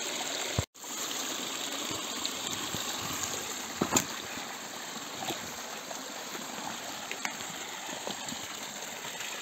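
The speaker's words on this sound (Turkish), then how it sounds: "Su şurada kayanın arasından geliyor. Yukarıdan. Tertemiz bir kar suyu." Clean snowmelt water on Mount Murat, running out from between rocks in a steady, close rush and trickle, continuous throughout with one brief sharp knock.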